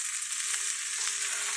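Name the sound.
frying hot dogs with mixed vegetables in pan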